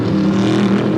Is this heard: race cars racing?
yes